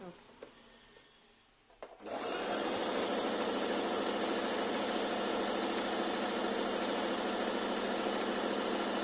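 A Singer Talent sewing machine runs a special decorative stitch, starting after a couple of quiet seconds with a few clicks, then a loud, steady, close whirring hum that continues without a break.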